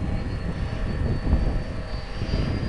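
A GWS Me109 RC warbird model plane flies low and fast on a windy day at half throttle, its motor giving a steady, loud, continuous drone that holds throughout with slight swells in level.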